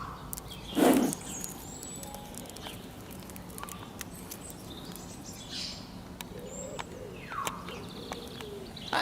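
Birds call outdoors, with one louder burst near the start and scattered chirps and coos afterward over steady background noise.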